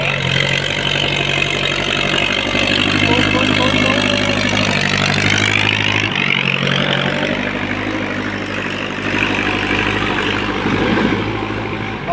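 A tractor plowing a field runs with a loud, continuous, rumbling engine drone. The tone shifts partway through as the machine works nearby.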